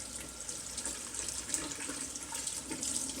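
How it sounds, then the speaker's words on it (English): Cold tap water runs steadily into a sink as cured bacon is rinsed under it, a continuous close hiss and splatter with slight surges as the meat is rubbed. "So just with cold water, rub as much of that cure off as you can"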